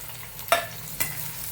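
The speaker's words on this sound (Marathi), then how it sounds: "बारीक चिरलेला कांदा आहे तो आपण फ्राय करून घेऊया आता त्यामध्ये आपण डोबी मिरची टाकून घेऊया" Chopped onion and bell pepper stir-frying in a pan for hotel-style fried rice, a steady close sizzle with two sharp scraping stirs, no talking.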